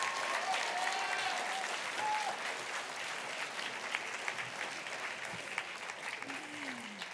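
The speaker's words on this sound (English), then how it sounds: "Let's give a thunderous round of applause for both of our middle college programs" A crowd at a dual enrollment recognition ceremony gives sustained applause for middle college programs, a steady, fairly distant patter of many hands with a few faint whistles and cheers rising above it.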